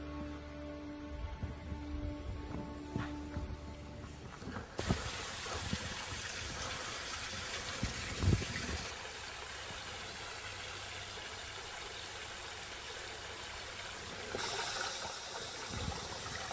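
Water flowing in a stream, a steady broadband rush and trickle that holds for the whole stretch and swells a little in places, fairly close, with no voices.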